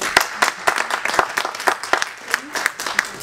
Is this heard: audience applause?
yes